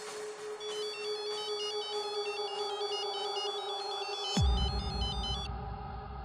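A phone rings with a repeating electronic ringtone melody, steady and fairly clear, before a sudden thump and low rumble near the end.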